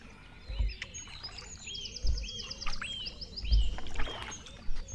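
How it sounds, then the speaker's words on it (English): Birdsong beside a river heard from a kayak, bright trills and whistled phrases from several birds fairly close, while paddle strokes thud and splash low in a steady rhythm roughly every second and a half. "just take in the views and listen to the bird song"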